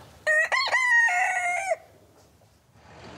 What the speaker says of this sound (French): Qu'est-ce qu'on reproche aux coqs? Eh ben, qu'ils font du bruit.